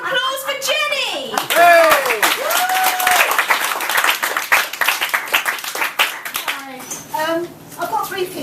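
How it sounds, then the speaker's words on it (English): A poetry-show audience applauds with steady clapping that fades away, followed by a voice beginning to speak. "could you please give her a massive round of applause for Jenny?"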